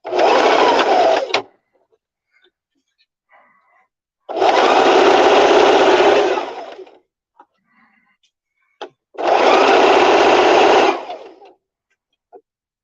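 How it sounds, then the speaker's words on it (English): A sewing machine stitching a handmade craft headbow runs in three sustained whirring bursts of about two seconds each, close and loud, separated by quiet gaps with small clicks and handling noises. "the whir of the sewing machine"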